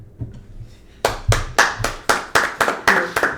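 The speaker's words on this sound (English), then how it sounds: "Hold the applause." Sharp hand claps from a small group for a podcast guest start abruptly after a quiet second, then land in a steady run of about ten loud, distinct claps with no talk over them.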